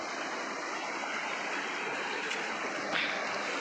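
Waterfall water pouring and crashing in a constant broadband roar, steady and fairly close, with no voices over the rushing flow.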